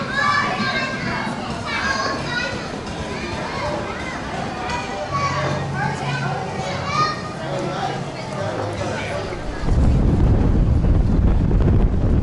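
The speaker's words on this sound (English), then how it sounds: "that's windy today" Strong gusts of wind buffet the microphone outdoors, with low rumbling that swells louder near the end, while children's voices carry in the background and people talk throughout.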